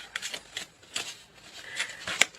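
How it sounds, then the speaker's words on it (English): A deck of tarot cards is shuffled and cut, giving quick crisp riffles and flutters in short separate bursts up close, with brief pauses between them and no talking. "One more card, and then we will cut the deck."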